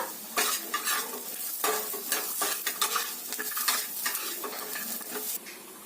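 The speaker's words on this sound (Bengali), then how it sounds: "চিনে বাদামটা কাঁচা ছিল তাই এতে ভেজে নিচ্ছি" Steady crackling sizzle of raw peanuts frying in a pan, with scraping stirring strokes throughout, close and fairly loud, no voices.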